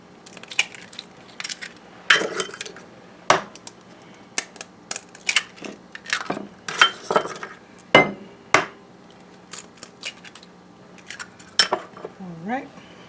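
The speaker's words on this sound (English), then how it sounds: "Now I have 4 eggs. I'm just going to crack them and add them like this." Four eggs cracked one after another against a dish, heard as a run of sharp close taps, knocks and clinks with short pauses between, ending in a soft wet slide as they drop in.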